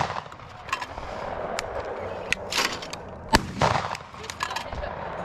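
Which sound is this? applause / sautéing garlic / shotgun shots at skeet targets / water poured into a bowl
shotgun shots at skeet targets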